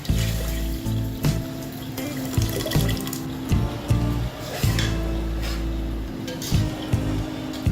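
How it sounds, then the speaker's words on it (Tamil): Dissolved tamarind water is poured into a simmering lentil-ball curry in a cooking pan, giving a steady liquid pouring and splashing sound with a few brief clatters, fairly close and without speech. "அடுத்ததா நம்ம கரைச்சி வச்சிருக்க புளி அதையும் சேர்த்துக்கிறேன்."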